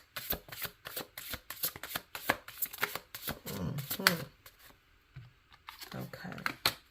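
Tarot cards shuffled and drawn from a deck, a close run of quick riffling flicks and slaps with short pauses, ending in a few scattered card snaps.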